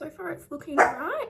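Excited dogs bark and yip in the background of a home while a person talks steadily over them in the foreground.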